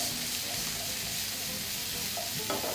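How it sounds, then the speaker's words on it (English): Mushrooms, lightly seasoned with salt and black pepper, sizzle steadily in a hot pan while being stirred, with a near, continuous frying hiss and soft scraping of the spoon through the pieces. "And just allow your mushrooms to continue browning."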